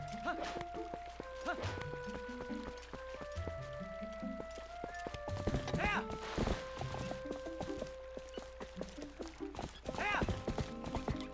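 Hooves clip-clop in rapid galloping rhythm from a horse in Zelda Twilight Princess, with a couple of whinnies and clattering game effects layered over a musical score.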